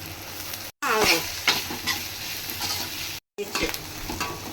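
Onions sizzle and fry in a hot pan while being stirred, a steady close crackle with scraping spoon strokes and a couple of brief cuts in the sound.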